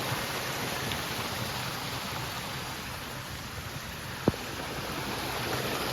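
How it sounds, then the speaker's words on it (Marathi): Rain falls outdoors beside a stream in the Konkan, a steady, even hiss of water that holds throughout, with one brief sharp click near the end and no voices. "आता परत पाऊस येलो हा तो बघा"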